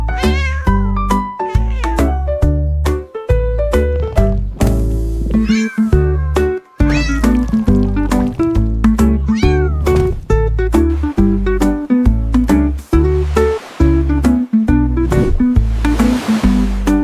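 Kittens meowing over and over in quick succession, loud and close, a busy chorus of overlapping high cries and caterwauls with brief gaps.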